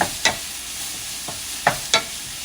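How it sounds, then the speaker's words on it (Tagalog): Ground pork and beef being stirred together in a frying pan, a faint sizzle beneath a few sharp spatula scrapes and knocks spaced irregularly, with no talking. "Tapos after that, halo-haluin lang natin."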